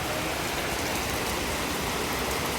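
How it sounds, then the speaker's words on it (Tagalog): Misty rain falls in Tacloban, Philippines, in a continuous, even wash of hiss and patter, moderately loud, with nothing else heard. "Ulan na medyo mausok."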